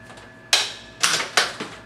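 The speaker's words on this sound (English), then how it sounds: "Cut it with your tube cutter." A tube cutter cuts CPVC pipe during a washing machine valve replacement, making three sharp, close snapping clicks at roughly half-second intervals, each trailing off into a short rasp.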